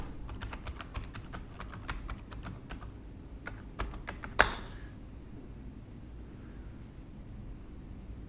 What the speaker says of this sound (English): So I'm going to enter my email and password.